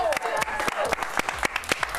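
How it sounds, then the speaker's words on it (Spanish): Studio audience applauding a Miss Universe runner-up on a Spanish-language TV show, scattered claps standing out sharply, with a host talking over them. "un aplauso"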